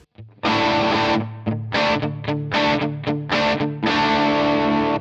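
Electric guitar with heavy distortion strumming an E-based chord in several loud, rhythmic bursts, each ringing briefly before the next, close and without talk.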